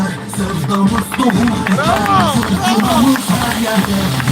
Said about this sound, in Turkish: Hep beraber alkışlıyoruz.